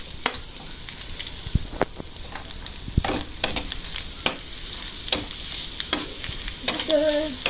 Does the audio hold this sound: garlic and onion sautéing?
yes